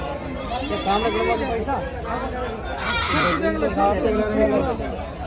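Goats bleat several times in wavering cries, close by, at a crowded goat market in Rajasthan, mixed with people talking and chattering over them.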